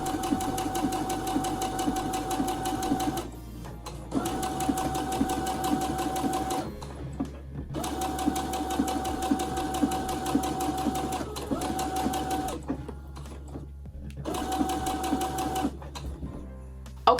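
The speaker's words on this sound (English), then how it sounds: "so now I'm just going to sew a straight stitch around." A sewing machine runs a straight stitch around a handmade Christmas gift, a steady close mechanical whirring in several long runs separated by brief pauses.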